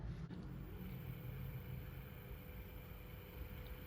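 An electric skateboard hub motor spins at 1500 RPM during a Hall effect sensor test, a steady low whirring drone with a faint constant tone above it, close and even throughout.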